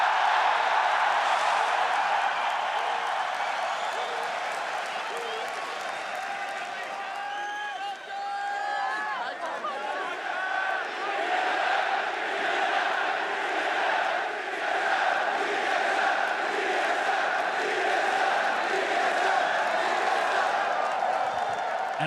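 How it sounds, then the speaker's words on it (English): A hyped crowd at a League of Legends LCS match between Team SoloMid and Cloud9 keeps up a steady roar of cheering and clapping for over twenty seconds, loud and continuous, with voices carrying over it. "Dude, this crowd is nuts."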